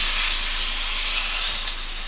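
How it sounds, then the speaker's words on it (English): Steak searing in a hot skillet gives a loud, continuous hiss and sizzle up close that eases slightly toward the end, with no voices. "So we're going to go ahead and sear the steak about a minute on each side"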